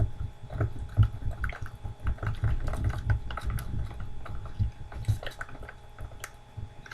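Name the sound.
mixing plaster with water for cardboard buildings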